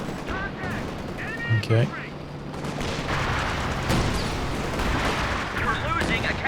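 In the Company of Heroes 2 strategy game, a base artillery barrage thuds and booms amid dense gunfire and battle noise, with a voice briefly speaking over the din.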